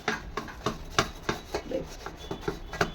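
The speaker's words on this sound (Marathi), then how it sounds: "आणि मी आता पाट्यावरती वाटण करणार आहे." Masala paste ground by hand on a stone slab with a stone roller, rhythmic scraping strokes repeating about every third of a second, close and fairly clear.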